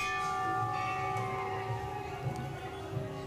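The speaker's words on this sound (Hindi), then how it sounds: "घंटा बजा रही थी।" A small child rings a bell at the crowded Jalpa temple in Katni, producing several faint metallic rings with sustained overtones amid a busy crowd murmur.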